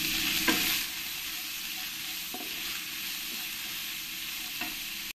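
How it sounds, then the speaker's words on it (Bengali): Chopped onions frying in a pan for a fish curry, a dense continuous hiss and sizzle with a louder burst at the start and a few stirring knocks. "যে পেঁয়াজগুলো কেটে রেখেছি পেঁয়াজগুলো দিয়ে দেবো, দিয়ে ভালো করে আমি লাল লাল করে ভেজে নেব"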